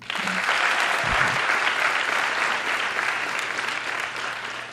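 A school crowd at a Black History Month celebration bursts into steady, dense applause that fills the room, with a brief low thump early on and the clapping staying loud throughout.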